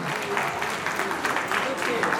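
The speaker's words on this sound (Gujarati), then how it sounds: "એમના માટે જોરદાર તાળી આવો." A crowd at a community gathering of an Adivasi Bhil organisation in Gujarat claps steadily in a sustained, even burst of applause that fills the space throughout.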